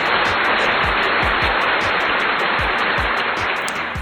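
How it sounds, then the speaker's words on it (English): A dense, steady burst of hand clapping applause for the Sacramento Kings, loud and continuous with broadband crowd-like noise, no talking over it. "Let me get a hand clap for the Sacramento Kings beating"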